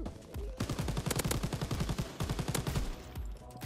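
MG42 light machine gun in Call of Duty WW2 firing a long, rapid sustained burst of evenly spaced shots, loud and close, with brief pauses between strings.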